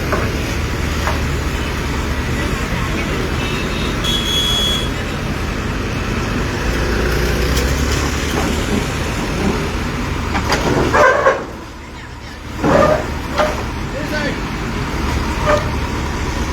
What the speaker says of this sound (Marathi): हे तुम्ही पळोवंक शकतात कसो हांगा ट्रॅफिक जाल्लो आसतो